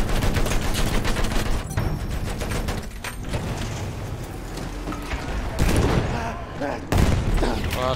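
Dense battlefield gunfire and heavy booms in a tank battle video game on the Amiens map, continuous and loud throughout with bursts and impacts, under occasional voices.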